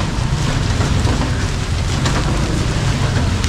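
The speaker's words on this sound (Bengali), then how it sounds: "মালদ্বীপে আসলাম বৃষ্টির সময়।" Steady rain in the Maldives, a dense continuous hiss of drops falling on surfaces close by, with a low rumbling undertone like wind or distant thunder and no voices.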